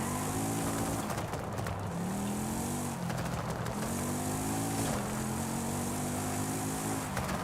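Engine of a 1900-horsepower Chevrolet Impala SS drag car with anti-lag in the racing game Forza Horizon 5, a continuous loud revving drone whose pitch rises and falls between gear changes, no speech.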